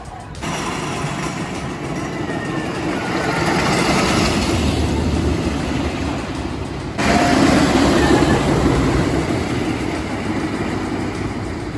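Steady loud rumble and roar of the Racer wooden roller coaster train riding along its track at Kings Island, continuous and close with a surge in intensity partway through, no talking.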